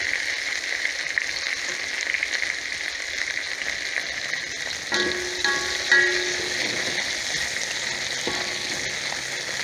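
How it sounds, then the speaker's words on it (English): Garlic frying in a wok for a Szechuan chicken and prawn dish makes a steady, dense hiss of sizzling oil throughout. A few brief metallic clinks come near the middle. No talking. "Okay, and we fry it till it's fragrant."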